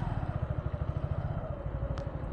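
Suzuki Gixxer motorcycle engine idles with a steady, rapid low putter, faint and close, pulses evenly spaced throughout with a light mechanical clatter on top.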